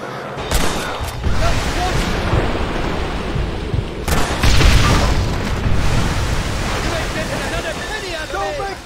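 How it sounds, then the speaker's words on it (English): Gunfire in the Red Dead Redemption video game, heavy booming shots and rumbling blasts under a dense wash of noise, loud and near, with a sharp report near the start and another midway. "I'm the one doing the shooting here"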